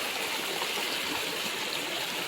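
A river flowing through forest, a soft, steady rush of running water with no voices, faint and even across a brief stretch.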